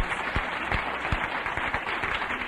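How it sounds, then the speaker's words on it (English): An audience at a mountain conference gives the speakers a round of applause, with steady clapping and a few sharper, louder claps standing out. "We do need to give them a round of applause."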